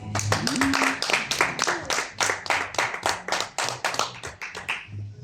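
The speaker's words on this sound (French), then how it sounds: "Acclamez-le s'il vous plaît." An audience at a diaspora meeting with a political party vice president claps to welcome a guest, a close burst of rhythmic clapping by a small crowd that gradually thins out toward the end.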